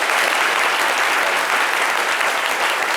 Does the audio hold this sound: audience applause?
yes